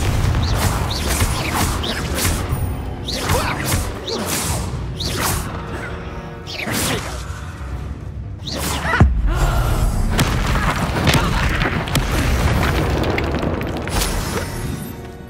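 A Confringo fire spell cast in Hogwarts Legacy, bursting into a dense, loud, continuous explosive roar with booms and crashing impacts that fill the whole stretch, with no voice over it.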